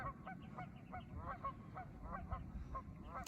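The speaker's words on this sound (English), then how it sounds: "We've got some geese here, tons of different waterfowl." Geese honk repeatedly in a steady, overlapping chorus at a waterfowl gathering outdoors, moderately distant with faint background noise.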